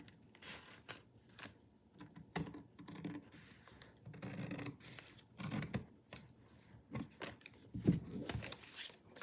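Scissors snip through quilt fabric for a table runner in a series of short, crisp cuts with pauses and handling rustles between them, close up and fairly quiet.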